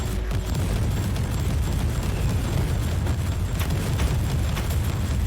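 Explosions in the video game Warhammer 40,000: Inquisitor - Prophecy, a dense continuous rumble of blasts and booms at steady loudness with no voices.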